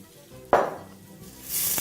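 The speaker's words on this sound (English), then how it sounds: "So we will start off by adding our onions to the pan with a bit of oil." Onions hit hot oil in a pan with a sudden sharp sizzle that fades, then a second, steadier frying hiss swells near the end, with no talking.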